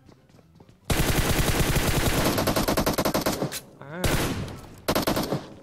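Automatic gunfire in PUBG Mobile sprays an enemy in long, loud, rapid bursts of shots, broken by short pauses, with a brief murmur from a player.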